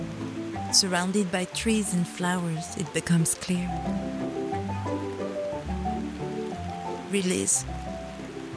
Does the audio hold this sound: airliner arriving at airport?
no